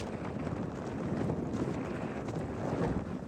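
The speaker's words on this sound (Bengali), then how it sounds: "প্রচন্ড বাতাস।" Strong wind blows across an open spot beside a stretch of water, a dense, steady roar buffeting the microphone without pause and with no voices.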